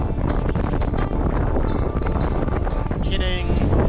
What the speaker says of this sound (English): Yeah, so it's been very windy.